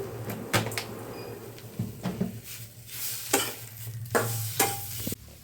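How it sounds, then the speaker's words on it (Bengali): Bottle gourd leaves being stirred and scraped in an oiled pan over a low flame, with repeated irregular utensil scrapes and knocks over a steady soft sizzle. "আর একটু ভালো সিদ্ধ হওয়ার জন্য এটা আর একটু নাড়িয়ে চাড়িয়ে নিলাম সিম আঁচে"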